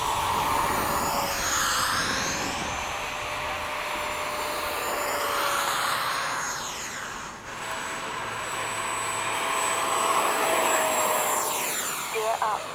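RC model jets with 70–90 mm ducted fans, F/A-18 and F-22 types, spool up and take off at a flying field, a loud sustained whine with sweeping pitch as they pass, while people talk nearby.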